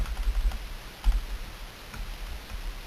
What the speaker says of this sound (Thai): กดเเครื่องหมายลบอะครับ คีย์บอร์ดลบเนี่ย